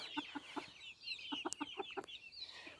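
Two hens cluck in a backyard coop, giving short, close clucks in small irregular bursts over a quiet background.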